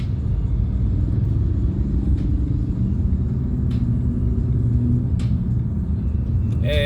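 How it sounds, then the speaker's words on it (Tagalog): Heavy Manila traffic rumbles low and steady as heard from inside a car, muffled engine drone with a few faint clicks and a brief sharper sound near the end. "This is what I hate, yung traffic"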